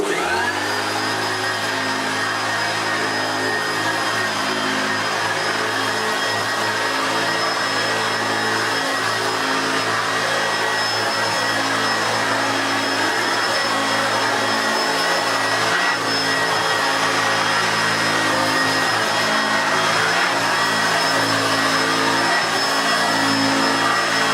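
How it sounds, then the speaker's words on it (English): A Hoover Turbopower Junior U1220 upright vacuum cleaner runs on carpet, a loud, steady motor whine and airflow roar with a constant high tone that holds throughout without a break. "we'll give this a good going around"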